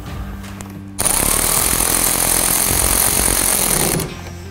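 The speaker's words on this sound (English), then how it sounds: "So we're going to take a size 10 millimeter socket and just back off the nut" Power tool driving a 10 mm socket onto a nut while wiring an LED light bar on a 2019 Ford Ranger, a loud, close, steady whirring burst of about three seconds that starts and stops sharply.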